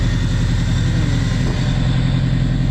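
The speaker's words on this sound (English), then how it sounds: "if you're hearing an exhaust leak, that is what's going on underneath" A turbocharged Subaru Forester XT engine with an exhaust leak idles loudly and steadily close by on a dyno, with a rough, puttering low rumble and no talking.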